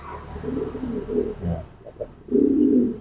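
Close, low cooing from pigeons in courtship training comes in several rolling phrases, with a louder, sustained coo near the end and no talking.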